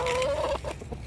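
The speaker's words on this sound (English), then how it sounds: "I can't come out of that greenhouse without all these chickens come running." Farm chickens running toward someone leaving a greenhouse give a short burst of close clucking, a drawn-out squawk followed by several quick clucks.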